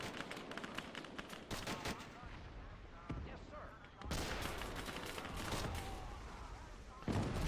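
Marines fire in a massive Iwo Jima 1945 invasion video game: dense, continuous volleys of gunfire and heavy bursts that sound like dual-barrel anti-aircraft guns, loud and rolling, with a few sharper blasts near the end.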